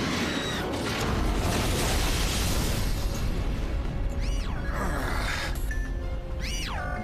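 An anime card duel's dragon fire blast attack erupts as a loud, roaring explosive burst that fills the first seconds, then fades into crackling rumble with a couple of sharp whooshing tones.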